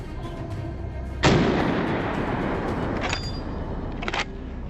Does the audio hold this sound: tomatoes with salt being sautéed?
no